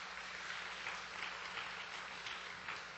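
Sustained applause from a church congregation after a drama performance, steady clapping throughout at a moderate distance, no voices over it.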